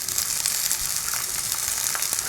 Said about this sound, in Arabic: هنشوحها عشان ما تشربش الصلصة بتاعتنا